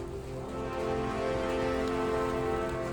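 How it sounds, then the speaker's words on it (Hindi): Steady rain falls during a mountain trek to the Tungnath Mahadev temple in Uttarakhand, a continuous even wash of close drops that fills the whole stretch without pause and with no voices over it. "बारिश चालू हो गई है"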